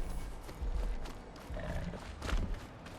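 Horse sounds from the video game ARK, with low snorts and hoof-like thuds in a faint, muffled game soundscape and no talking.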